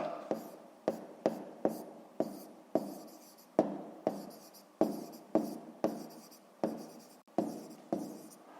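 Pen strokes writing notes in a math exercise, a rhythmic series of short scratchy strokes and taps, close and quiet, about a dozen separate bursts with brief pauses.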